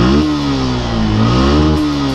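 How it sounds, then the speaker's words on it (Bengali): Exhaust of a Suzuki Gixxer SF motorcycle revving up close, a loud, steady engine drone that rises and falls in pitch through two throttle blips with no voices. "তো চলেন আপনাদের এই বাইকের এক্সস্ট সাউন্ড শোনাই।"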